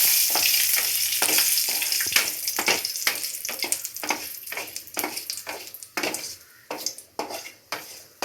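Dried red chilies and curry leaves fry in hot oil with a bright sizzle, punctuated by rhythmic scraping and clanking of a spoon stirring against the pan, close and fairly loud.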